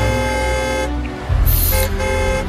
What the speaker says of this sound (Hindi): जो ठीक मेरे पीछे थी वो हॉर्न पे हॉर्न दिए जा रही थी।